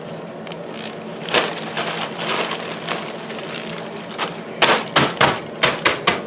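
Potato chips are crushed inside a plastic Ziploc bag, first as crackling rustles and then as a series of sharp, close, rhythmic thumps as the bag is pounded.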